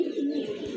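Pigeons kept for sale in a close pen give a low, throaty coo, one short rolling call heard near and clear.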